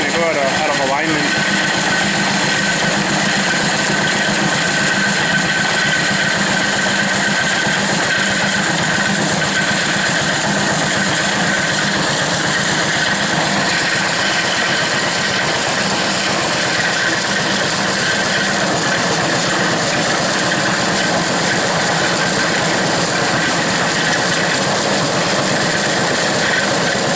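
An engine drives an antique corn grinder with a continuous, loud mechanical drone and vibration at a steady pace, running alone without pauses.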